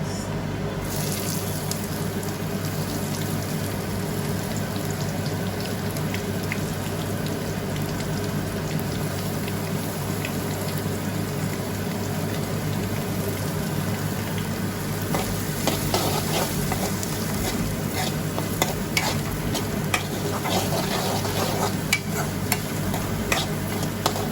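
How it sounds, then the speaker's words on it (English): Chopped onions sizzle and fry in a pan over a high flame, a steady loud crackling hiss that lasts throughout with occasional stirring scrapes. "now I'm going to add in my onions."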